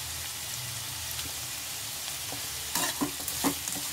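Onions being sautéed with salt in a pan for tomato pulav, giving a steady close sizzle with a few louder stirring scrapes near the end.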